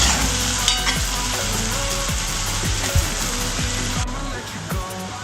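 Onions frying with salt in a pan for a Kerala-style water buffalo curry with toddy, loud continuous sizzling up close with sharp clattering stirs and scrapes of a utensil against the pan.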